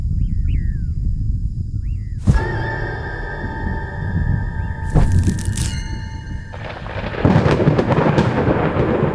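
Thunder in a cartoon jungle, a sharp crack followed by long rolling rumbles spread over several seconds, with cartoon bird squawks and whistle-like tones layered on top as a storm begins to gather.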